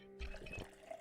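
Water sloshes and trickles as a character drinks in the video game Project Zomboid, a short soft liquid gurgle heard quietly with no talking.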